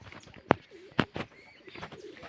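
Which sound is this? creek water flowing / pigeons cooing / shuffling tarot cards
pigeons cooing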